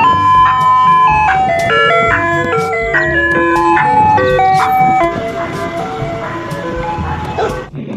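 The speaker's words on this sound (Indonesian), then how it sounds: "Yang ini ada mobil es krim." A toy ice cream truck plays its tinkling, bell-like electronic jingle up close and loud, the melody running steadily and then cutting off abruptly near the end.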